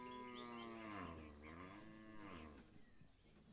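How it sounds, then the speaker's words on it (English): A cow moos loudly and close by, one long drawn-out low call with rising and falling pitch, heard alone outdoors at a cricket match in Sri Lanka. "Sorry about the cow noises."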